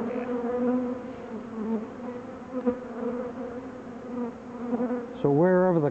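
Honey bees drone in a dense, continuous buzz from an opened spring hive full of brood and nurse bees, with a louder, wavering rise in pitch near the end as bees swarm close.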